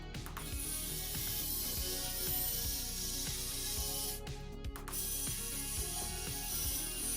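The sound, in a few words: small motor driving a miniature diorama sliding door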